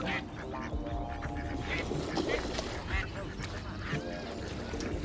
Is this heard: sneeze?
no